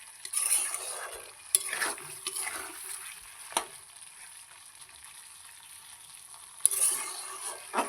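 A cauliflower curry sizzling steadily in a pan, with a soft continuous hiss and occasional sharp clinks of a utensil stirring against the metal, close and moderately quiet.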